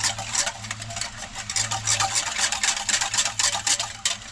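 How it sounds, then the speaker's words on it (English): Chunky corn soup thickened with cornstarch is stirred in a pot in a tiny motorhome kitchen, a steady close scraping and swishing with a quick, even rhythm over a faint low hum. "At this point, we're stirring and watching carefully."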